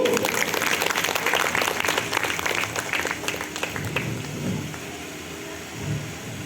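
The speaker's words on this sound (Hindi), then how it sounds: "तो सब के लिए दो जोरदार तालियां बजाएंगे" Crowd applause at a Raksha Bandhan celebration at a Brahma Kumaris centre, dense clapping loud at first then gradually thinning and fading, with faint voices underneath.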